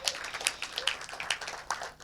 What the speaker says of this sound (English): give a round of applause to all of the team behind the scenes as well